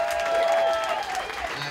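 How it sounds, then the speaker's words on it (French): Audience applause at a comedy festival in Alma, a steady wash of clapping with a faint crowd murmur and some tonal background sound underneath. "Donnez-vous une bonne main d'applaudissement."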